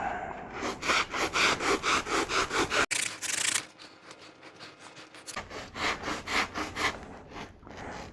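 Foam mud plug for ATV bead lock wheels being trimmed at the edges, with steady rhythmic rasping strokes close by, a short pause mid-way, then the back-and-forth cutting resumes alone.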